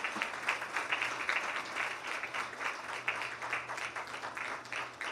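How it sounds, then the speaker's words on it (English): An audience at a corporate event in Bengaluru breaks into sustained applause, with fairly faint but steady clapping heard from a distance. "Can we have a huge round of applause, ladies and gentlemen?"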